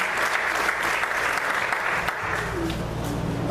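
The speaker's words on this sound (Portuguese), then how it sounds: "Você pode aplaudir o Senhor nesta noite?" A church congregation breaks into sustained applause during an evening service, a broad wash of clapping holding steady, with a faint low tone entering near the end and no talk.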